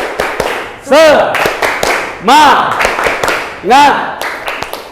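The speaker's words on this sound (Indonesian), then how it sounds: "Tepuk semangat" A classroom of students claps a rhythmic spirit cheer: bursts of clapping fall in a steady pattern, with group voices chanting loudly in between.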